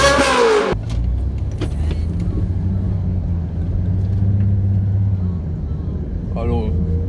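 A Range Rover Sport HSE diesel pulls away, its low engine rumble steady and close throughout after a brief voice at the start, with a faint short voice near the end.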